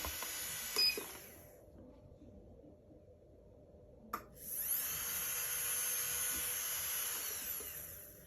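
A JSDA 5500 professional router motor whirs at high pitch, drops in speed, clicks as it switches, then spins back up to a steady loud whine, close by with no talk.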